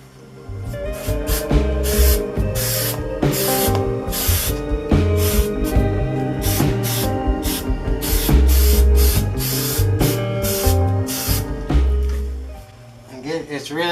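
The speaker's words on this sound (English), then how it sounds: "Now spray glue, shake it up." Spray glue hisses from an aerosol can onto a sun visor in a hot workshop, many short, loud bursts repeating in a quick, uneven rhythm, with no one talking.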